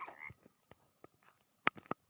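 Several short, quiet croaks and clicks from a video game frog, scattered unevenly, a few louder pops near the end, heard alone without voices.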